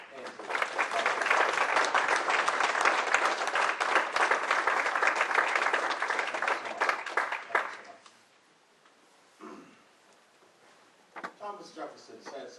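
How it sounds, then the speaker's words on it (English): An audience at a political talk applauds loudly and steadily for about eight seconds before the clapping dies away, leaving a quiet gap and brief murmurs of voices. "please applaud the effort of this great freedom fighter"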